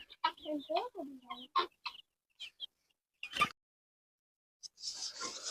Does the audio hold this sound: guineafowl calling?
yes